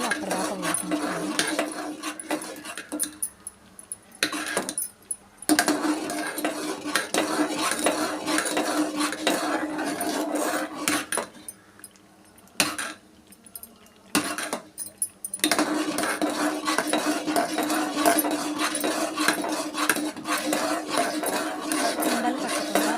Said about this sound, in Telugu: ఉండలు కట్టకుండా రవ్వని కలుపుకుంటూ ఉండాలండి.